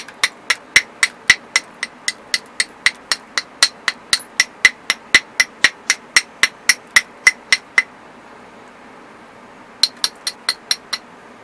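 Obsidian slab being knapped, a hard hammer striking off flakes in a steady run of about thirty sharp glassy clicks, close and loud, then a short pause before a final burst of quicker strikes.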